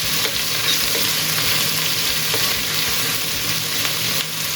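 Onions sautéing in a pan keep up a steady, close sizzle and frying hiss throughout, with faint stirring scrapes and no talking.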